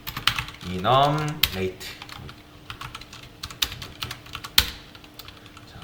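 Python code is typed on a computer keyboard in a quick, uneven run of close, crisp keystrokes with brief pauses. A single spoken word cuts in near the start.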